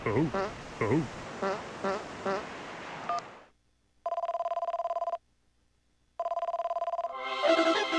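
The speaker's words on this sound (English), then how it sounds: "I didn't expect the phone to ring." A telephone rings in the video game Game & Wario, two steady electronic ring bursts with a short gap between them, following a stretch of lively game music and effects.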